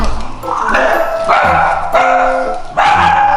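A dog barks loudly and close at a self-service dog-washing facility, four drawn-out, whiny barks spaced about a second apart.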